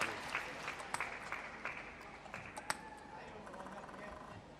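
Crowd applause and cheering at a men's doubles table tennis match during the ITTF Mixed Team World Cup, a steady clapping wash with sharper ball-like clicks, moderately distant and under a faint background voice.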